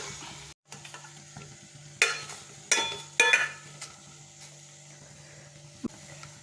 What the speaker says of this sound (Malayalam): ഒന്ന് ഇളക്കിയിട്ട് കൊടുക്കാം